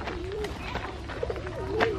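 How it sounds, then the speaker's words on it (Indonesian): A pigeon coos close by in soft, rising and falling throaty calls, repeated a few times against a low background murmur. "Pigeon."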